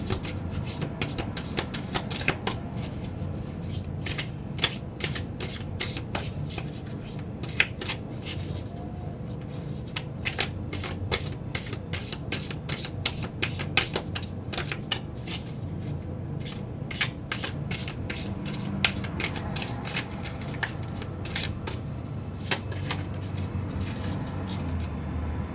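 Tarot cards being shuffled by hand, a steady run of soft riffling and slapping card sounds close up, over low background hum, with no speech.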